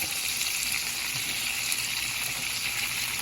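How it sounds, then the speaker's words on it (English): Salmon basted by spoon in hot garlic butter sauce, giving a steady, close, even sizzle and hiss that holds without break, with no voices. "I'm gonna baste this salmon with my butter sauce"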